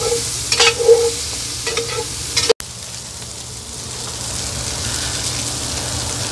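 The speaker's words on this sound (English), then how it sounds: "When you go to stir this up a little bit and it starts to stick a little bit" Sausage sizzles in a pan as a spoon scrapes and stirs where it sticks to the bottom, with a few close scraping strokes, a sharp knock, then a steady frying hiss.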